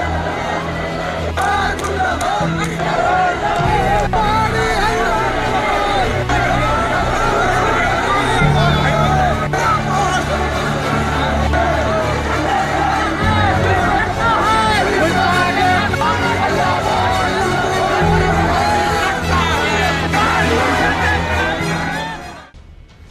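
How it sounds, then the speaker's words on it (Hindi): A large protest crowd in Uttarakhand demanding justice for Ankita Bhandari, a loud, dense roar of shouting and chanting voices that swells and surges continuously before cutting off at the end. "ये भीड़, इस भीड़ की आवाज"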